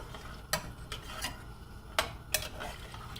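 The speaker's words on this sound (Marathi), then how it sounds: "मस्त असं सगळं ढवळून घ्या." A simmering kala chana usal curry being stirred in a pot, with soft scraping and a few sharp spoon taps against the metal over a low bubbling background, fairly faint.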